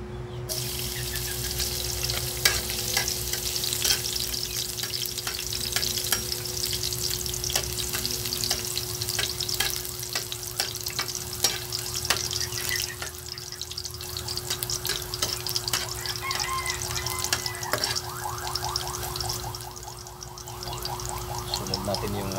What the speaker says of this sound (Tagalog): ipainitin natin yung oil mga kabusing bago natin ilagay yung ating bawang